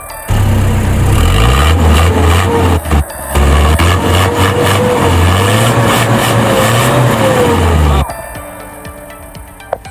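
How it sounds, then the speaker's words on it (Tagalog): A Mazda Bongo Double Cab 4WD engine runs loudly up close, revving up and down in rising and falling sweeps before settling back toward idle. "Okay gyud kayo iyang tingog sa makina."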